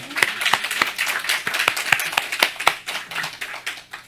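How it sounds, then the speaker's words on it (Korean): A small church congregation claps together in a quick, steady rhythm of sharp hand claps, fairly close, with no talking. "하나님께 영광의 박수 올리도록 하겠습니다"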